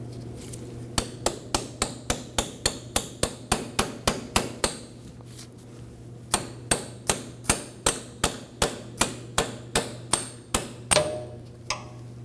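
Sharp metallic hammer blows drive a roll pin into a CV axle for a 2003–2006 Subaru Baja 2.5L H4, about two dozen close, evenly paced strikes in two runs, with a brief pause between, over a low steady hum.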